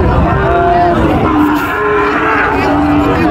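Sahiwal cattle at a livestock market in Joypurhat give several drawn-out moos, loud and near, rising over a busy background murmur of the crowd.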